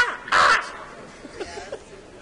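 A man imitates a crow with one loud, harsh caw, followed by faint breathy sounds in a quiet room.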